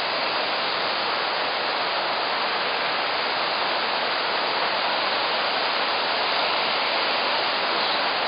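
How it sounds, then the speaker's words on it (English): Krka Falls near Sibenik, Croatia, pours down as a steady, broad roar of rushing water that stays constant and loud throughout, with no voices. "Water coming down over there too."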